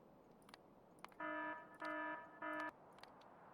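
Three sustained electronic alarm tones from the video game Factorio with the Krastorio 2 and Space Exploration mods, each about a third of a second, separated by short gaps, over faint background hiss.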